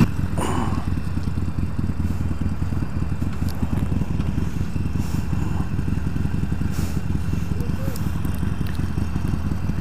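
Motorcycles ride along a road during a road trip, with a steady, loud engine drone and wind rumble running throughout, a few faint clatters on top and people talking occasionally over it.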